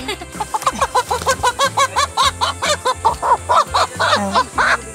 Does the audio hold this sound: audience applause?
no